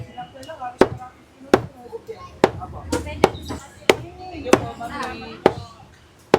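A butcher chopping chicken for sinigang with sharp, close cleaver strikes landing about every half-second to second, while people talk over the chopping.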